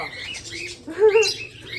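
A cockatiel chick's wings flap on its first flight, a short soft flutter rising in the middle alongside faint chirps, heard close in a quiet room.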